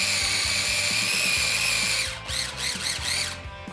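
Chopped ham grinds fully in a food processor for deviled ham salad: a loud, even motor whine runs for about two seconds, then breaks into several short pulsed bursts near the mic.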